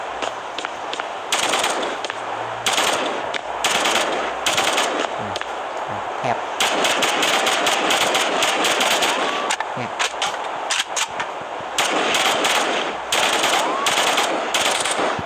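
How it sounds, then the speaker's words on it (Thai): A Vandal rifle in the video game Valorant fires at a target in repeated rapid bursts and longer automatic strings, loud and sharp, with brief gaps between volleys. "เดี๋ยวผมลองเทสยิงกับเป้า"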